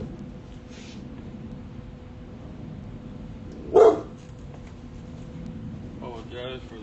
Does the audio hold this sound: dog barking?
yes